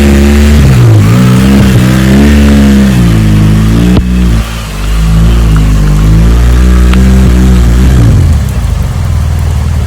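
A motorcycle engine revs hard and strains while riding on rough road in Uganda, its loud, close drone rising and falling repeatedly in pitch throughout, briefly dipping near the middle before surging again.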